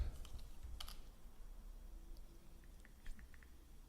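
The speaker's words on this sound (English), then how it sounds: "Oh, you're typing." Light typing on a computer keyboard during a live online stream, a few quick soft key clicks in small bursts, faint and close against a low background hum.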